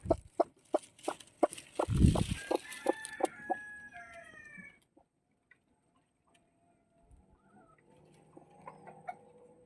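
Chickens clucking while being fed a snack: a quick run of close, rhythmic clucks and calls, then quieter, sparse clucks trailing off.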